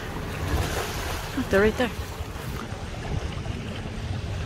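Big ocean swells wash around a sailboat on a multi-day passage to the Benjamin Islands, a steady broadband rush of water and wind noise throughout, with a person speaking briefly in the middle.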